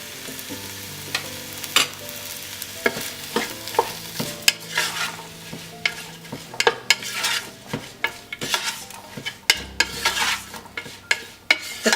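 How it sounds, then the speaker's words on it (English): Onions and garlic sauté with curry leaves in a pan for a cinnamon shrimp curry: a steady close sizzle broken by repeated spatula scrapes and sharp clinks against the pan, with no voices. "and garlic. Saute them for about 2 minutes."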